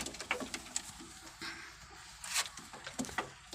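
Pigeons in a home loft give low, quiet coos in irregular bursts, with light pattering and faint background noise and no voices.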